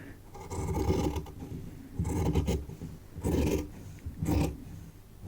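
Two layers of fabric being cut in a straight line for a Christmas tree skirt, four separate rasping bursts of shears with short pauses between them, close and moderately loud.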